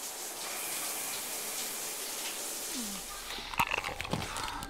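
Shower water runs in a steady, close broadband hiss throughout, with a few sharp clatters and knocks breaking in toward the end.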